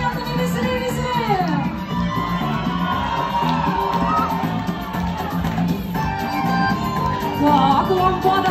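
Partygoers at a New Year corporate party cheer, whoop and yell for dancers in a sustained, lively crowd roar, with shouting voices rising over the noise.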